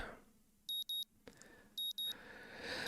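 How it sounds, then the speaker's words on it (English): Morning alarm clock in the visual novel Katawa Shoujo going off in two bursts of paired high electronic beeps, loud and close, separated by a brief quiet pause over faint background noise. "My morning alarm goes off"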